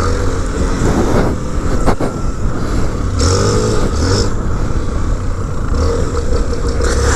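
A Honda XR motorcycle engine runs loud and close, a continuous rough rumble with slight rises in revs throughout.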